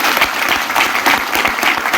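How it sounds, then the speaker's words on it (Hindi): Dense, loud applause from a large audience at a live stage presentation of a business plan, steady clapping that fills the whole moment without speech. "इस सिस्टम के लिए एक बार जोरदार तालियां।"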